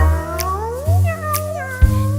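A cat meows in a long, drawn-out, wavering call, loud and close, with brief pauses between repeated cries.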